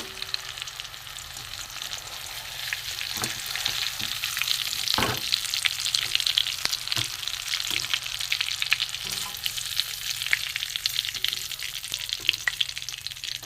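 Prawn kebab balls frying in hot oil, a close, steady sizzling hiss dotted with sharp clicks and pops as they are turned, with no talking.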